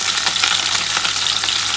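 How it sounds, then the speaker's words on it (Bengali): Potatoes and cauliflower fry together in a pan for a Bengali vegetarian curry, giving a steady, loud, close sizzle with no talking. "আলু আর ফুলকপিটা একসাথেই বন্ধুরা ভাজবো।"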